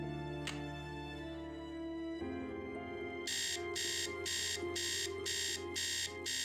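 A Nancy Drew video game alarm clock beeps in fast, regular bursts over soft ambient game music, loud and close, after a quiet musical stretch.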